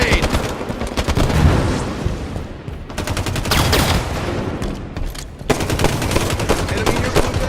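Rapid automatic gunfire in Halo 5: Guardians Slayer on the map Truth crackles in dense bursts with brief pauses between them, loud and close, alongside faint in-game callouts.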